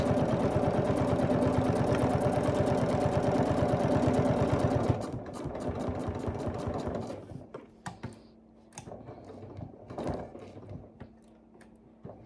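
A sewing machine stitching a mug rug runs in a fast, steady whirring rhythm for about five seconds, then slows into a few slower stitch bursts and faint clicks before stopping, close and with no talking.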